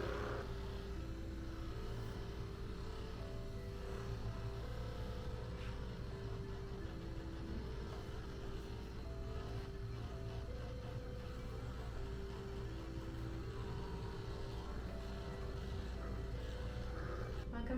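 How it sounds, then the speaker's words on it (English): An Everyfun massage gun runs on its second speed setting, giving a steady low motorized hum with a constant buzzing pulse that holds at even loudness throughout and is heard alone. "this is gear 2"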